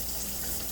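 Water runs steadily from a tap into a pot of rice being washed, a brief, even, broadband gush with no pauses.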